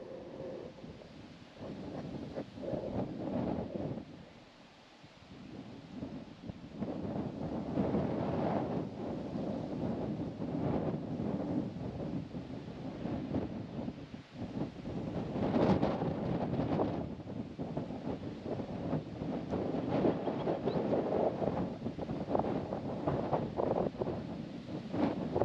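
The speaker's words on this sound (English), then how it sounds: "I think it's actually just miles too windy for that" Strong gusts buffet the microphone in a steady roaring rumble, dipping briefly around five seconds before surging again, on an exposed windy outdoor spot in South Australia's southeast.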